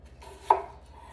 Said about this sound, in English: I'm gonna cut horizontally into the onion